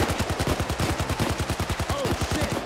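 Rapid automatic gunfire in Payday 2 during an armored transport heist, a steady fast burst of loud shots with a faint voice briefly underneath.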